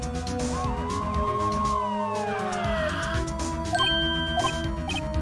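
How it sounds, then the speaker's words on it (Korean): A police car siren from the Ace Attorney video game, wailing sweeps rising and falling over background game music, moderately loud with no talk. "경찰차다. 이쪽으로 오는가 보군."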